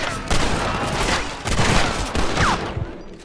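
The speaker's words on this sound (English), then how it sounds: "And now it's time to gun down a bunch more bandits." A fusillade of gunfire in the Red Dead Redemption video game as bandits are gunned down. Dense, loud shooting runs steadily through the clip, with booming reports and no talk.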